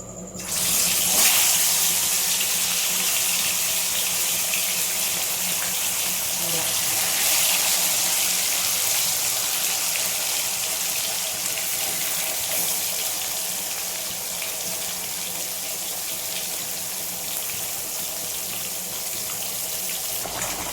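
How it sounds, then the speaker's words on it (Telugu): Pieces of small fish coated in spice masala are frying in hot oil in a kadai, giving a steady, close, loud broadband sizzle and crackle that lasts the whole stretch and eases slightly toward the end. "చేపల ఫ్రైకి ఆయిల్ పోసేస్తున్నాను బాండిల్లో హీట్ ఎక్కింది మూడు చేపలు మసాలా కలిపి పెట్టుకున్న చేపలు ఫ్రై ముక్కలు వేసుకుంటున్నాను"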